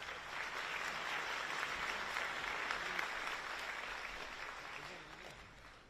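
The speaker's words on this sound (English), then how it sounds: "a round of applause for Satya Nadella, CEO and Chairman of Microsoft" Sustained applause from a large audience at a live event with Microsoft's CEO in Malaysia, a steady wash of clapping heard from a distance at moderate volume that slowly fades toward the end.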